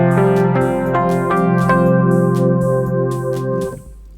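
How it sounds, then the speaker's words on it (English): A Kurzweil K2700 synthesizer plays its Dino electric piano patch: sustained, bell-like chords with a few struck note changes, loud and close, then a quick cutoff near the end. "Dino electric piano."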